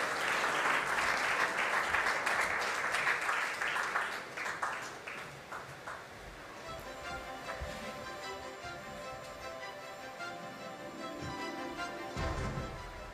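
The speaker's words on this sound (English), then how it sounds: "please clap for the people, the heroes, and please do that" Warm crowd applause at an Indian sports awards ceremony, loud and dense at first, then thinning to scattered claps, with a faint hum and murmur left beneath.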